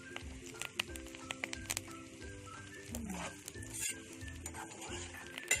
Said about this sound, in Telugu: ఆకంతా కూడా ఇలా పచ్చి లేకుండా వేపేసుకోవాలి